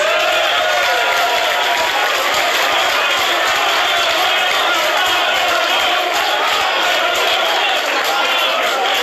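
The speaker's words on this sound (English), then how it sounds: "people are actually cheering PowerPoint" A large crowd at a campaign speech in Las Vegas cheers and shouts loudly and steadily, a dense roar of voices and whoops that holds the whole time.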